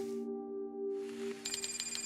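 An incoming telephone call rings with a steady electronic tone that shifts into a rapid, pulsing ringtone pattern, clear and close with no voices, in a Korean true-crime TV report.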